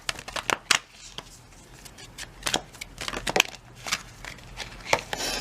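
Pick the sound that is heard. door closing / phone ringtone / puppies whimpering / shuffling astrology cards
shuffling astrology cards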